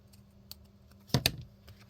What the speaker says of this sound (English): But we'll just cut the bottom off.